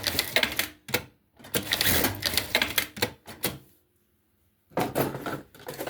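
A sewing machine stitches thin elastic onto a nursing pillow in quick, rattling bursts, stopping briefly between runs and pausing once for over a second before starting again.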